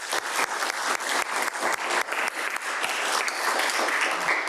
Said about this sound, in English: I just want to give you a round of applause for being so awesome